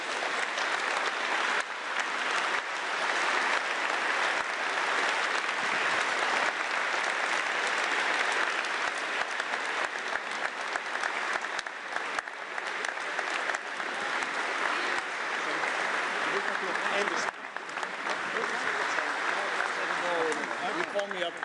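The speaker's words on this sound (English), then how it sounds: "welcome the Bundeskanzler of Germany, Mr. Merz, with a warm applause" Warm, sustained applause from a large summit audience in Antwerp welcoming German Chancellor Merz, a dense steady clatter of clapping that carries on without pause for the whole stretch, with faint voices mixed underneath.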